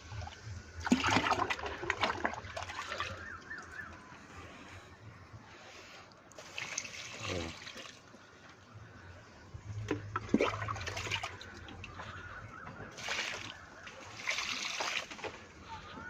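Homemade liquid garden fertilizer poured into water and mixed, heard as several bursts of splashing and sloshing separated by quieter gaps, close by, with a voice speaking softly in places.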